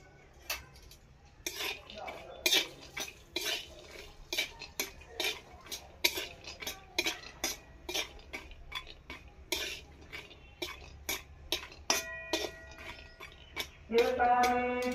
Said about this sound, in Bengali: চীনা বাদাম কতগুলো কড়াইয়ে দিয়ে দিলাম।